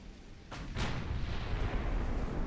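Distant naval gunfire in the warship battle game Ultimate Admiral: Dreadnoughts, two sharp reports about a quarter second apart, then a sustained rumbling roar of continuing bombardment.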